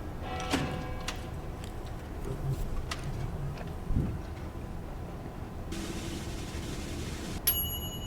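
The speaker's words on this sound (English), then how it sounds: "Bells ring in the distance." Bells ring out in the distance in the video game Lil' Guardsman, a few clear metallic strikes spaced over several seconds above a steady low ambient bed, with a brighter chime near the end.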